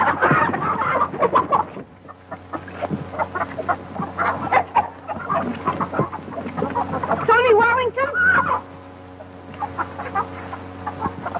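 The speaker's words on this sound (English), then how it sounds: "Oh, he can't hurt them chickens." Chickens cluck around a farm in an 1934 western film, busy overlapping clucks and squawks with a rising burst of calls midway, heard near and fairly loud, with speech mixed in.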